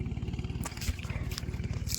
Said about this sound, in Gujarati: સામે જો ટ્રેક્ટર હાલે છે